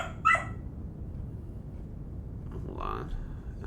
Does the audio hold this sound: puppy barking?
yes